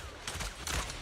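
Gunfire from the Grim Vulture enemy in the video game Zenless Zone Zero comes as a quick cluster of sharp, crackling shots over a busy game soundscape, all packed into about a second.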